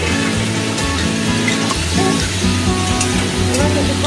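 Fried potatoes and pointed gourd drop into a pan with melted tomatoes for a rohu fish curry, giving a steady close sizzle and hiss with faint clatter over a low hum.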